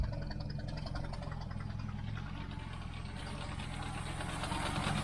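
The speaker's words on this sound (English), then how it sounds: "you hear that noise, but if you lift this radiator support up, it stops. Fan's hitting the shroud." A quiet, steady mechanical hum from a running 1978 Chevy Nova with a faint repetitive ticking or rattling throughout as the radiator fan hits its shroud, no voices.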